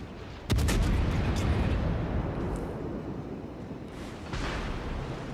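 A Baltimore cruiser in a naval combat game fires a heavy gun salvo with a sharp, booming report. A long rumbling roar follows, then a second thud near the end.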